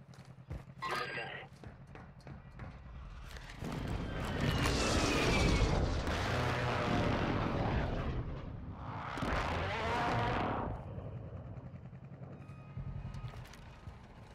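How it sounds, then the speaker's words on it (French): An allied precision airstrike in Call of Duty Warzone 2 comes in as a swelling roar of jets and explosions, rising, fading, then surging again, heard under in-game radio voice callouts. "Frappe de précision alliée imminente."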